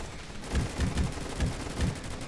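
Bursts of AK rifle fire in the Gunfight Arena shooter game, loud and close, cracking out in quick uneven clusters of shots over continuous background game noise.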